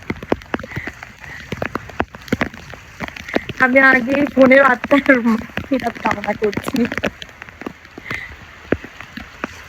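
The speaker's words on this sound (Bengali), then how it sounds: "আমি বৃষ্টির মধ্যে ফোনটা নিয়ে ভিজতেছি" Heavy rain drums on a flooded rooftop, with scattered close drops striking near a phone and someone talking over it in the middle.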